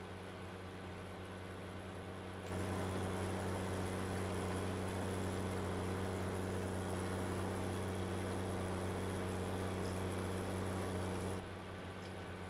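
Tractor engine in Farming Simulator 19, a steady low drone that swells louder for several seconds and then drops back to a quieter hum.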